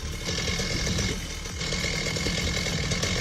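A small two-stroke Stihl petrol chainsaw engine idles with a rough, buzzy putter, steady and fairly close, dipping briefly midway before settling back into its idle.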